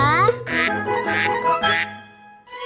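Ducks on a pond give three loud, nasal quacks in an even rhythm, set against a bright melody from a children's song.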